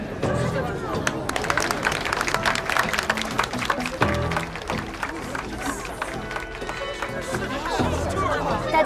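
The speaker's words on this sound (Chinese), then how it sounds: "下面让我们以热烈的掌声，有请今天的第三位入围选手发表获奖感言。" Warm applause fills an award ceremony as the third finalist is called up, busy clapping mixed with crowd murmur and chatter, fairly loud and continuous.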